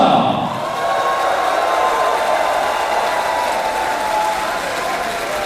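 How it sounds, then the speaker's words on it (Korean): An audience at a special lecture in Gwangju applauds and cheers, sustained crowd clapping that opens loud and then holds steady, with a tonal ring running through it. "여러분의 박수와 함성으로 시작하겠습니다"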